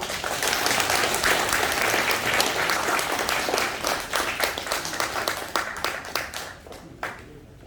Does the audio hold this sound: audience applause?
yes